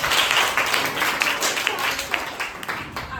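A group of schoolchildren in a classroom claps together on request, a dense patter of many small hands that swells and thins over a few seconds, with some voices mixed in.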